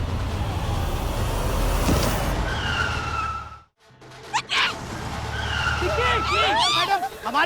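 A car skids to a stop with sharp tire squeals, loud and close, amid scattered voices and engine noise in a dramatic street scene.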